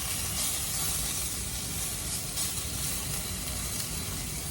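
Maple Spam slices browning in a pan give a steady, even sizzle and hiss that runs throughout with no pauses, close and moderately loud, and no talking over it.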